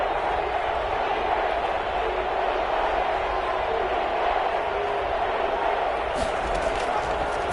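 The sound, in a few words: stadium crowd cheering at a football game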